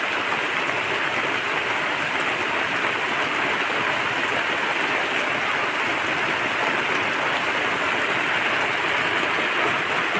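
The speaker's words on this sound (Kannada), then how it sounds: "ನಿಮಗೆ ಸೌಂಡ್ ಕೇಳಿಸ್ತಾ ಇರ್ಬೋದಲ್ಲ ಮಳೆ ಬರ್ತಾ ಇರೋದು ನೋಡಿ" Heavy rain pours down steadily near a house, a dense, even hiss filling the whole stretch at constant loudness with no breaks and no talking.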